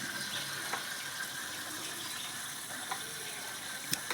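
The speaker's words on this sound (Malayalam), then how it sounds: "ഒരു രണ്ട് പ്രാവശ്യം വെള്ളത്തിൽ കഴുകി വാരി ഒന്ന് മാറ്റാം" Steady running water splashes continuously as small bird's eye chillies are rinsed, with a few small clinks and bumps near the end.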